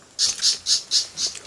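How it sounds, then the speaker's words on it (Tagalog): A bird calls five times in a steady rhythm, short bright squawking notes repeated about every quarter second, clear and fairly close, on a mountain trail in Tanay, Rizal. "narinig nyo yung huni ng ibon"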